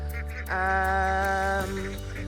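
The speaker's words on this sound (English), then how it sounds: "So it's mainly the females that you hear quacking so loudly." Female ducks from a flock of about fourteen hens and four drakes call loudly at feeding time, one long, sustained, nasal quack-like honk rising close by over a low background rumble.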